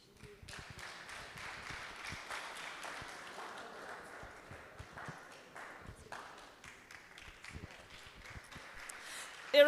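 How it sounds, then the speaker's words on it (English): An audience at a chapter gathering claps as a guest departs; scattered, moderately loud applause continues throughout with a few sharp claps near the end. "A round of applause to Dr. Abiola as she leaves"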